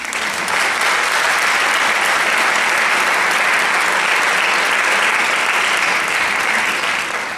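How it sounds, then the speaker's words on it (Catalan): A large audience applauds steadily and loudly for Bernat Capó at a Valencian popular-culture tribute, a dense wash of clapping that holds unbroken from start to finish with no voices above it. "Demanaria per a ell ja almenys un aplaudiment"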